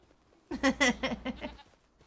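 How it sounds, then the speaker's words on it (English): Goat on a farm letting out one close, loud, wavering bleat of about a second, with quiet background before and after. "Hear the goats going off?"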